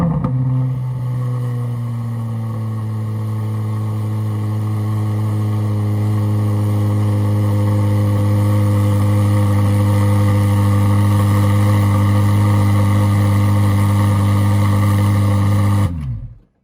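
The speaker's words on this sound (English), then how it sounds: "There you have the cold start." A 2023 Corvette Z06 with the Z07 package cold-starting, firing with a loud burst and then settling into a high, steady, droning idle that holds for about fifteen seconds before cutting off, close by and with no talking.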